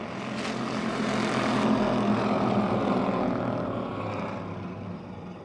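Race cars roaring around Motordrome Speedway at a green flag start, a dense, sustained engine drone swelling as the pack passes, then slowly fading, with no talk.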